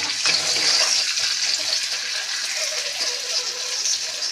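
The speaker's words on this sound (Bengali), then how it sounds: "এবার এটা ভালোভাবে আমি উচ্ছেগুলো ভেজে নেব।" Bitter gourd frying in a pan with salt and turmeric, a steady broad sizzle and hiss of hot oil that stays loud and even throughout, with no voices.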